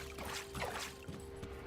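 Faint trickling and sloshing water echoes in a cave in the video game Grim Dawn, with soft, irregular splashes over a low steady hum.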